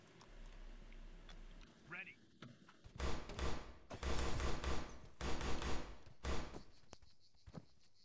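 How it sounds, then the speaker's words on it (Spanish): Bursts of rapid gunfire from the ArmA 3 video game crackle in clustered volleys over several seconds, loud and close after a quieter start, with players talking over the game audio. "Disparos desde la casa de enfrente, Filos, a la derecha, por favor."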